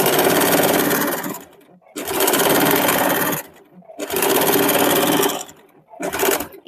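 A sewing machine stitches a seam on a double-katori blouse front, running loud and close in three long bursts with short pauses between, plus the start of a fourth.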